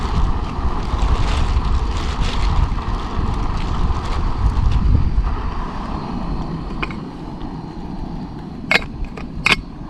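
Wind buffets the microphone outdoors at a backpacking campsite in rough low rumbling gusts that ease toward the end, followed by a few faint clicks.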